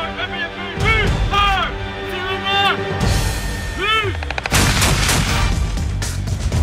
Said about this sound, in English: With a crack of gunfire, the attack commences.